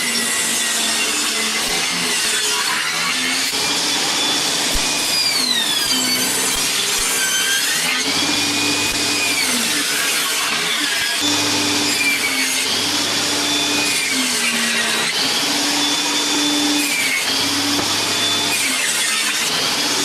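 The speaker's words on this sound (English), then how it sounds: "to start with I'm just going to rough cut it on the table saw" Table saw rough cutting a wooden door panel, a steady loud whine with repeated rising and falling tones as the blade bites into the wood, continuous for the whole stretch with no talking.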